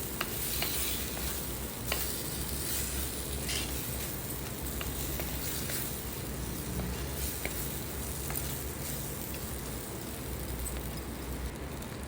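Brinjal with rock salt sautéing in a pan, a steady loud sizzle with scraping stirs throughout, no voices.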